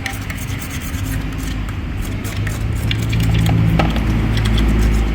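Scraping and rubbing at close range while a clogged strainer from a noisy 2NZ-FE engine is cleaned, the gritty strokes continuing in an irregular rhythm over a low mechanical background.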